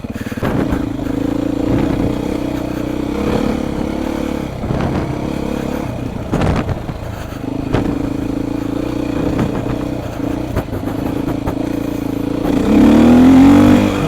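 A Beta motorcycle ridden off-road, its engine droning and rising and falling in pitch as the throttle works, with clattering knocks and bumps over rough ground and a sharper rev toward the end.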